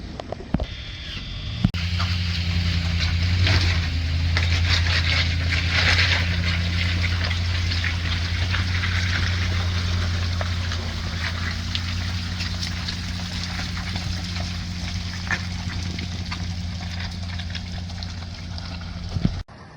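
An Osprey 26 Fisherman boat engine idles with a steady low rumble while water trickles and splashes around it as the boat is pulled out, continuing for about twenty seconds without speech.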